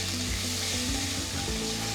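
Finely chopped garlic and crushed ginger sizzle steadily in a pot, a dense continuous frying hiss with faint stirring scrapes underneath and no voice.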